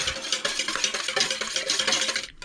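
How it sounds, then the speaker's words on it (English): Two eggs are whisked briskly in a bowl for brownie batter, a rapid rhythmic clatter of the whisk against the sides, close and steady for a couple of seconds before stopping. "2 eggs in a bowl. Whisk."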